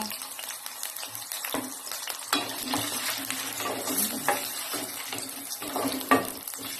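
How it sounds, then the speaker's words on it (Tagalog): Pieces of potato crackle and sizzle steadily in hot oil, with occasional scrapes and clinks of stirring close by, frying for caldereta. "iprito nyo po muna yung inyong potato"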